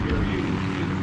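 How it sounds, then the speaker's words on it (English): Airplanes flying overhead in a Call of Duty match, a loud broad engine roar that fills the whole short moment, with a voice talking over it. "You see planes flying over."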